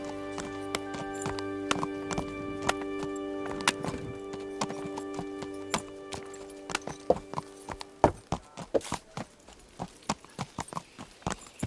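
Horse hooves clip-clopping in the video game Kingdom Come Deliverance, a run of sharp hoofbeats that turn faster and more rhythmic toward the end, over a low tonal background hum.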